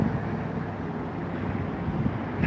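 Steady gusting wind buffets the microphone outdoors in Las Vegas after a storm, a constant low rumbling roar with no talk.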